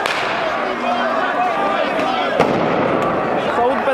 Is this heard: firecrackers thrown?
yes